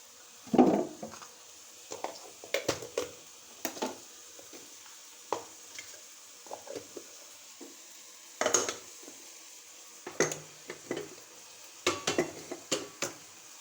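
Egg kothu parotta sizzles in a pan as chopped parotta and egg are stirred, with a faint steady frying hiss under intermittent sharp scrapes and clinks of a utensil against the pan, close up, without speech.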